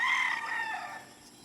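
A Boston White gamefowl rooster crows close by, a single loud, bright call that fades out over about a second.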